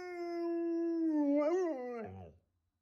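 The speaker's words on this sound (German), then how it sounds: "relativ früh angefangen, morgens, fast wie zur Begrüßung, wie zu heulen" A puppy howls in the morning, one long, loud, close wail that rises and wavers, then breaks into a short whimpering yip before falling silent.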